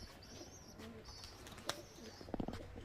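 Giribaz high-flying pigeons released from a loft give faint, scattered calls and chirps, with a few sharp flutters near the end, against a quiet outdoor background.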